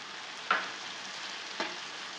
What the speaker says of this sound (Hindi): 2 बारीक कटे हुए टमाटर डाल लेंगे।